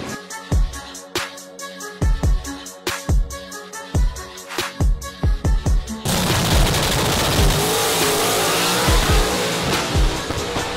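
H-pattern stick-shift race cars at a drag racing event: a series of sharp, loud bangs and pops from engines on launch and shifts, then a continuous roaring, full-band engine blast as cars race away, with no talk.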